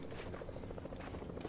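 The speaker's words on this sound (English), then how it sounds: "Who's in the helicopter?" A helicopter flies in a video game, a steady, faint rotor thrum with a rapid chopping pulse, continuous throughout with no voices.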